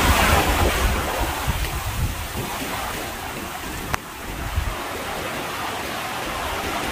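Waves roll onto a somewhat dirty, seaweed-strewn beach beside a boat landing in Bani, Pangasinan, a steady broadband wash of surf with wind buffeting the microphone, one brief knock partway through and no talking.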